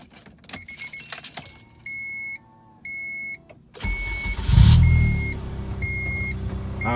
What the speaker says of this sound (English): Here's the exhaust. It's not extremely loud, but it definitely has a tone to it.